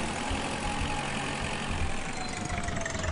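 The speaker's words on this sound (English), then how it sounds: "We've got a spanky shiny new tractor now, look at that, woohoo!" A tractor engine idles steadily in the historical farming game Agricultural Simulator, a constant loud low rumble with a faint knocking texture and no break.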